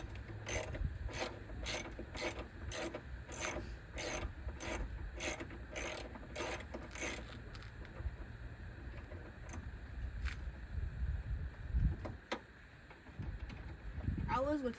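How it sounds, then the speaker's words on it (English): A socket and ratchet work bolts loose on a truck fender, giving a fast run of sharp, evenly spaced ratchet clicks that stops partway through, followed by scattered clanks and low handling noise, all close by. "So yeah, I'm using the socket and the ratchet."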